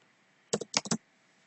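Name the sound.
typing code on a computer keyboard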